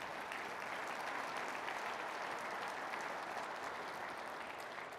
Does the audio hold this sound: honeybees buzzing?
no